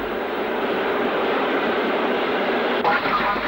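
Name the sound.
Black 5 steam locomotive hauling a freight train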